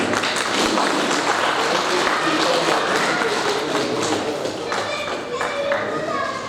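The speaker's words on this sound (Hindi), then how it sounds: "तालियां बजाते रहिए" Audience applause at a Hindi astrology talk on stage, a continuous wash of clapping from a crowd that holds steady throughout with slight dips.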